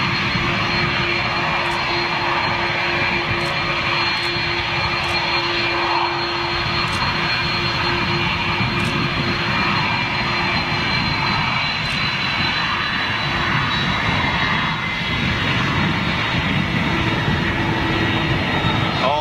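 Jet airliner rumbling on a runway at Schiphol airport, a loud sustained roar with a steady whine, heard continuously from moderately close for the whole stretch; brief clicks punctuate it.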